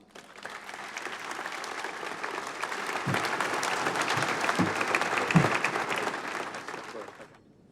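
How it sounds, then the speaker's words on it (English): An awards banquet audience breaks into applause, swelling quickly to a steady, dense clatter of many hands, holding for several seconds with a few stronger claps before tapering off. "Please give them a round of applause."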